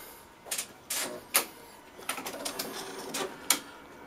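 A printer running a nozzle check gives a series of quiet, close mechanical clicks and short whirring strokes in an uneven rhythm.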